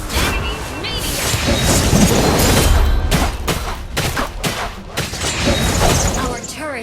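A turret is destroyed in a Mobile Legends match, heard as a loud cluster of explosive crashes and bursts among busy game effects, with a voice speaking over them.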